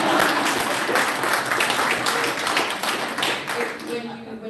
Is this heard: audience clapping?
yes